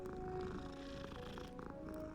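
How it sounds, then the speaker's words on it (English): A cat purrs steadily as it is rubbed in Hogwarts Legacy, a soft, continuous rumble that carries on without a break over game background sounds and a low musical hum. "You can really rub the cats."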